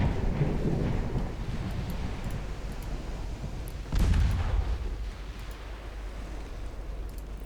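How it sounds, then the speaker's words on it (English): A torpedo hit in the naval warfare game Ultimate Admiral Dreadnoughts, heard as a distant, muffled boom rising out of a continuous low rumble of battle, with no voices. "Got a torpedo hit on something though."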